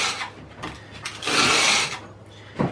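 A round #1 handplane iron scrapes across a sharpening stone in short gritty strokes, with one longer, louder drag in the middle and a brief final pass, close and alone.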